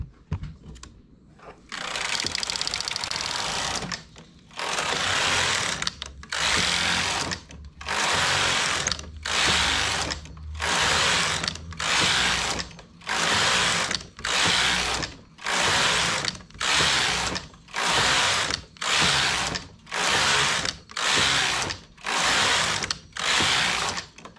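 Domestic knitting machine knitting rows of a flat panel, the carriage swept back and forth in a steady run of loud, rasping passes separated by brief pauses, close up with no talk.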